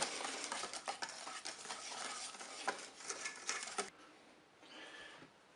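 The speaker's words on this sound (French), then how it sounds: "On va mélanger jusqu'à l'obtention d'une pâte lisse." Cake batter for a cherry cake being stirred by hand in a bowl until smooth, giving a steady scraping and swishing that runs without a break for about four seconds and then drops away to quieter handling sounds.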